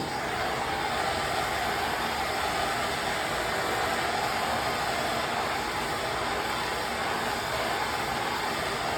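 A heating tool blows hot air over an arcade control panel during a Q*bert cabinet restoration, giving a continuous, fairly quiet whooshing hum with no breaks.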